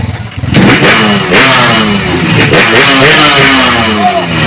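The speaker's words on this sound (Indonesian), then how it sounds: "ngadengin suara motor ieu" A motorcycle engine revs up sharply from a low idle, then holds a loud, rising and falling roar with rattling clatter, close and dominant for several seconds.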